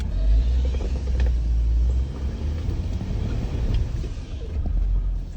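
Winch hauling a mud-caked stuck Jeep up a steep hill in Ohio, with the emergency brake off and traction boards under the tires; a steady, loud low rumble of engine and winch drive runs throughout with no talk.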